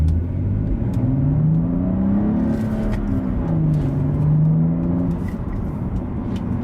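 A 2013 BMW 335i with a six-speed manual revs and accelerates smoothly, pitch rising and falling in broad sweeps, heard from inside the car, steady and fairly loud.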